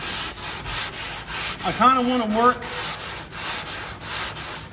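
Hand sanding body filler on a car panel, a steady rasping rub repeated in even back-and-forth strokes, close up, with a brief voiced murmur partway through.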